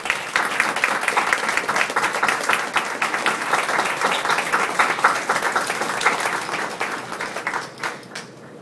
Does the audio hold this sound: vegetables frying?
no